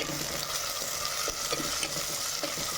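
Onions and tomatoes sautéing in a clay pot for a spicy crab curry, a steady close sizzle with soft stirring scrapes and faint clicks throughout, no voices.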